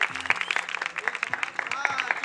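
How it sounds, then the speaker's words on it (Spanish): Crowd clapping at a freestyle rap event, lively scattered applause with whoops and calls over it, plus low tones in the background. "un fuerte aplauso,"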